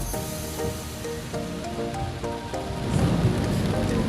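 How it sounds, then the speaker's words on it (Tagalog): Heavy typhoon rain pours during a drive through flooded roads in Tarlac City, Philippines, as a steady hissing downpour. Faint tonal sounds run under it, and the rain swells louder toward the end. "lakas yung ulan."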